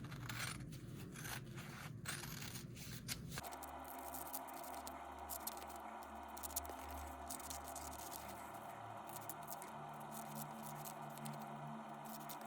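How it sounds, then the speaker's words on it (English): Scissors snip through pieces of denim fabric being cut apart for jeans repair, producing close, dry scraping and crisp cutting sounds with a few quick snips followed by a longer continuous pass. "And I'm just going to cut these apart."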